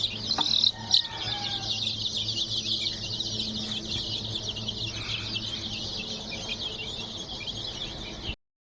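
Chickens and chicks cluck and cheep continuously at close range, a steady chorus of bright peeps over a low background hum, with a brief louder squawk near the start and no talking.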